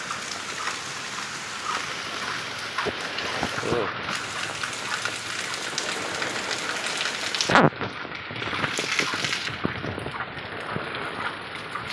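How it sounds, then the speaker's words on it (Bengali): Steady rain hiss fills the whole stretch, with a brief louder crackle near the middle; continuous and fairly close, with no voices. "শুধু বৃষ্টি আর বৃষ্টি।"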